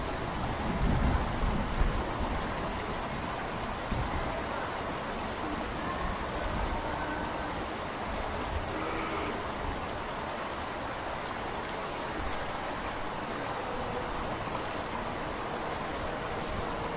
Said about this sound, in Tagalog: May thunder.